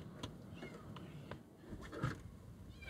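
Faint meows from kittens hidden inside a hatch come through a few short calls, distant and muffled under low background rumble.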